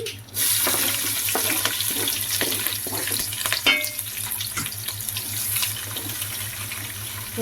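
Steady hiss of cumin, garlic and green chillies frying in hot oil, with scattered crackles and pops throughout, close and continuous.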